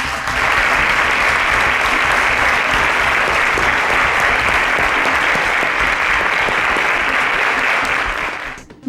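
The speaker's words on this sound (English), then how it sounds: "A round of applause for them as they exit the show." A studio audience at a televised competition gives contestants a loud, sustained round of clapping as they leave, dense and even for about eight seconds before tapering off.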